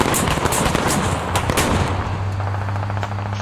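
Dense gunfire in the military shooter game Squad: rapid, loud overlapping shots and bursts crack over a continuous low rumble, with no pause across the stretch.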